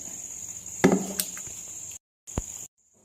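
A kitchen knife chops through jackfruit on a cutting board, one sharp close chop followed by a lighter tap, over a steady background hum that cuts out briefly.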